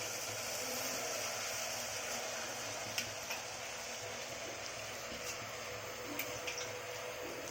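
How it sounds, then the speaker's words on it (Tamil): Water is poured into a pot of soaked, washed rice and lentils, a steady rushing flow with small splashes and drips, close and moderately loud with no talk. "தண்ணி எடுத்து சேர்த்துக்கலாம்"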